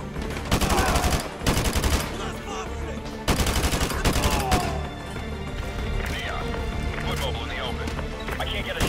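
AK rifle in the Modern Warfare 2 campaign remaster fires in loud, rapid automatic bursts, several separate volleys close by, with scattered distant shots and battle noise continuing between them and voices talking over it.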